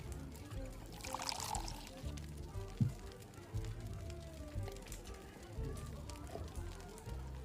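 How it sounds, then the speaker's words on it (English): A drink is poured into a glass in a brief liquid splash, set against a low, steady room background. "Can I pour you a glass of,"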